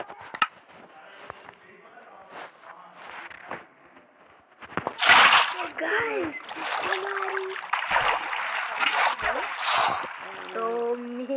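Water splashes in a Minecraft-style video game as a player makes an elytra water clutch landing, a burst of splashing and bubbling amid game sounds, with someone talking over it.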